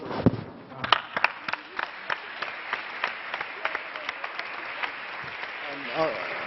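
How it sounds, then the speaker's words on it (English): Applause at an awards ceremony, scattered claps from a modest audience that start with a few strong hits and continue as a thinning, irregular patter, with a brief murmur of voices near the end. "I think really I can only applaud you again"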